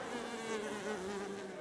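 Flies buzz around fresh cow dung, a faint, continuous drone that wavers slightly in pitch with no speech over it.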